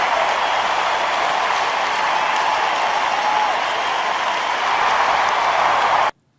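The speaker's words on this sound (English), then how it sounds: "I've never had such an applause." Studio audience applause, a dense, even wash of clapping held loud and steady for about six seconds before cutting off abruptly.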